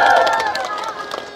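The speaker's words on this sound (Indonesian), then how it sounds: "Tepuk tangan." Applause from a crowd of company employees at a breaking-fast dinner gathering, a dense wash of clapping mixed with cheering and voices, steady and fairly loud, then thinning out toward the end.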